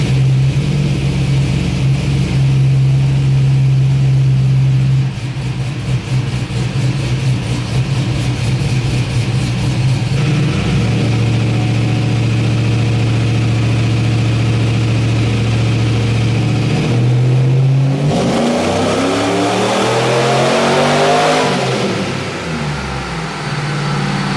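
Chevrolet S10 pickup with a 5.3 V8 on a tuning run, loud steady engine drone that holds, dips, then climbs into a hard revving pull near the end, close up with no talking.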